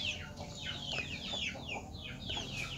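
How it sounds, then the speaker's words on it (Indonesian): Chickens clucking close by, a quick run of repeated high clucks and squawks over a steady background hum, with no talking. "Saya usir dulu ayam."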